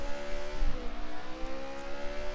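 Onboard engine of a BMW DTM race car lapping the Norisring in a racing game: a loud, steady, whining engine drone that dips slightly in pitch as it shifts, with no talking.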